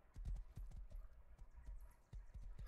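Horse hooves clip-clop in a quick uneven rhythm in the Rust survival game, a soft, fairly near series of thuds with no talking.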